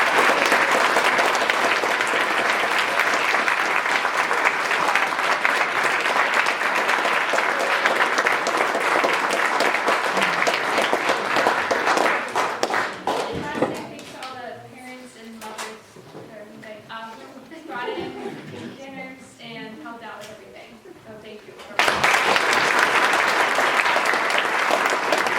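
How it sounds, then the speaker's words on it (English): Loud, sustained audience applause at a performance of the play Witness for the Prosecution fills the opening stretch, gives way to a speaking voice with a quieter room, then swells again at the end. "So we'd like to extend another round of applause for her."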